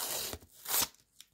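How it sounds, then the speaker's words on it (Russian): A paper card packet from a Back to School collection rips open in a couple of sharp, rough tearing bursts close by, followed by faint rustling and a small crinkle. "Так, открылось как-то не очень удобно."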